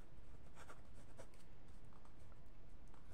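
Marker or chalk strokes on a classroom board trace out numbers in quick, faint scratchy bursts, close and quiet, with no talking over them.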